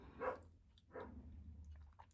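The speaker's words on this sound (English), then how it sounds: "she's in there barking in the house" A dog barks once or twice indoors inside a house, a short sharp bark near the start followed by a softer second one, with quiet room noise between.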